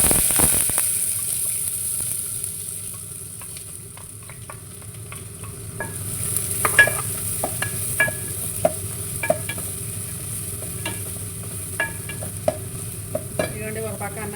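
Onions for chicken curry fry in a pan with a steady background sizzle, while a spoon scrapes and knocks against the pan in repeated sharp clicks that grow more frequent over the last half.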